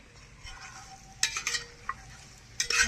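Tomato ketchup being stirred into a chicken roast in a pan, soft sizzling with a few sharp scrapes and clinks of the spoon against the pan, close up.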